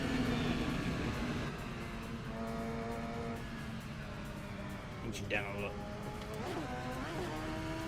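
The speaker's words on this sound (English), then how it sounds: "This car is pretty loud." Race car engine droning steadily in the Assetto Corsa racing game, a sustained harmonic whine that shifts pitch with gear changes and revs, running loud throughout beneath someone talking.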